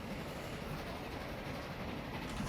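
A train rumbles past steadily in the Transport Fever 2 railway game, a dense, loud, continuous roll of rail noise with faint clickety-clack and no talk over it.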